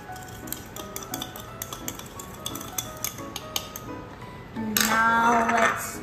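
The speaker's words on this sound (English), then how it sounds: "Now let's stir it, stir." A spoon clinks rhythmically against a bowl while stirring tutti frutti cake batter with milk powder and powdered sugar, a series of light taps and scrapes, ending in a brief louder rustle.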